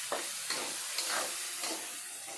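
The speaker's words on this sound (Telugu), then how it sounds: "తర్వాత పచ్చడి వేస్తున్నానండి. కొంచెం పచ్చి వాసన పోయినంత" Green chilli and raw tamarind chutney fries in a pan with garlic, a bright steady sizzle broken by several quick spatula scrapes at roughly half-second intervals, close up and without speech.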